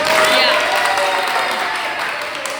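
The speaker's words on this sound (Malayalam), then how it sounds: "സനൂനും സൗമ്യജിക്കും ഒരു വലിയ കയ്യടിയോട് കൂടെ" A crowd claps loudly and steadily for a couple on stage at a show, a dense wash of hands that eases off slightly toward the end, with some talking mixed into the noise.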